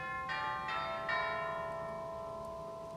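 Church chimes in the dome of a 100-year-old church, played from the organ console, ring out in three overlapping bell strokes that hum and slowly fade, moderately loud in a reverberant space.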